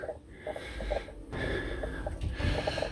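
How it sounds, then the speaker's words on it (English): A person working on a boat restoration, fitting vinyl walls, puffs and pants heavily from exertion, with close, rhythmic breaths and snorts. "Puffing and panting."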